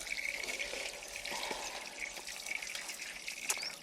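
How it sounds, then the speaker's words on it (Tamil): Custard apples washed in a vessel of water at a farmhouse. Steady splashing and running water carries on the whole time, close and fairly full, with small drips and sloshes over it. "சீத்தாப்பழத்தை எதுக்கடி போட்டு கழுவிட்டு இருக்கிறேன் நான் பாருங்க"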